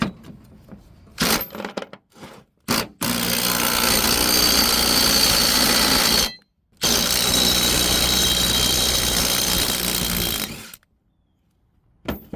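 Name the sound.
power tool removing a bolt from car suspension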